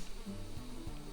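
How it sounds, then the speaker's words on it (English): A low, steady buzz of bees droning continuously in the video game Valheim, soft and even, with slight wavering tones throughout. "Yep, the bees are happy."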